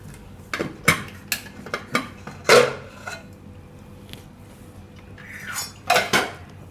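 A pressure cooker is opened as metal pots and lids clank and rattle in several sharp bursts, with a loud clatter midway and another near the end, close by with no talking.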